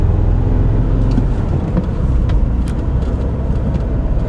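A Mini Cooper S engine runs rough with random misfires, a low uneven rumble with faint irregular stumbles, heard steadily from inside the car.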